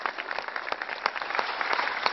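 An audience in Timișoara applauds a folk singer, steady dense clapping throughout with no speech over it.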